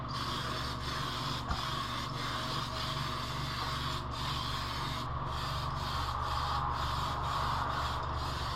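Spray paint hisses onto an RC Chevy K5 Blazer body in white, a continuous close airy spray with brief pauses between passes, with no voices.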